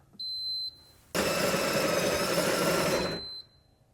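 The built-in grinder of a Ninja Luxe Café espresso machine grinds coffee beans in a loud, steady burst of about two seconds, preceded by a short electronic tone.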